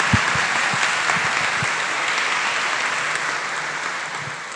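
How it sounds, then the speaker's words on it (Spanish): A church audience claps in welcome during a faith-and-reason talk at a feast for the Lord of Calvary, with steady, dense applause filling the room at an even level for several seconds. "Así que les damos un aplauso de bienvenida"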